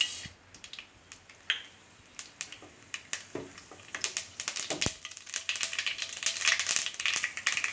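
Mustard seeds splutter in hot oil while a brinjal curry is started, with sharp irregular pops and crackles that begin sparse and grow denser and louder toward the end.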